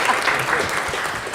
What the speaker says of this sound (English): You guys can clap, that's okay.